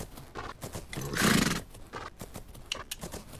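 A horse in the video game Fernhoof Grove gives a loud, drawn-out whinny in the middle, surrounded by rhythmic clip-clopping hooves.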